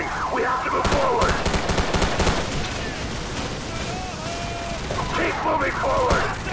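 Gunfire in the Call of Duty 4: Modern Warfare mission The Bog, loud rapid bursts of automatic fire and shots over a dense battle din, with shouted voices in between.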